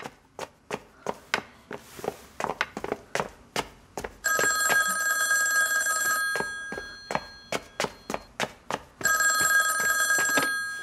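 An indoor telephone bell rings in two long bursts with sharp rhythmic tapping or knocking between and around them. The sound is fairly close and clear, with no speech.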